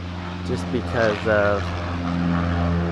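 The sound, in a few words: small airplane taking off from an airfield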